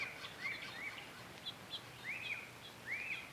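Backyard birds, including flickers, sing faint repeated whistled notes and short rising chirps at intervals over a quiet outdoor background.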